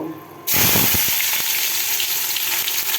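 Chopped onion drops into hot mustard oil already holding cumin and cinnamon, setting off a sudden loud, steady sizzle that keeps crackling close by to the end, with a few clinks of a utensil and no talk.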